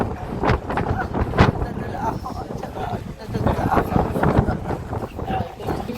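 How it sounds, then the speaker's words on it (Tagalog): Gusty wind buffets the microphone in rumbling bursts while people talk nearby. "Uy, ang hangin!"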